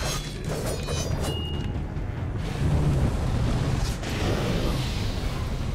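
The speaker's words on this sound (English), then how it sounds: "Yes, breathe your fire." A fire breath attack in the video game Alice: Madness Returns, a broad roaring whoosh that rises and swells through most of the stretch, fairly loud and continuous.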